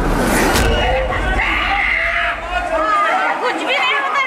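People scream and shout in panic as a rescue boat capsizes in floodwater during heavy downpour in Hyderabad, with loud chaotic voices and crowd chatter throughout.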